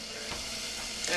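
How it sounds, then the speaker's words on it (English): A small chopped onion simmers in a pan over low heat for homemade risotto, giving a soft, steady, faint sizzle throughout the brief moment. "small onion. And you want to simmer that on low heat."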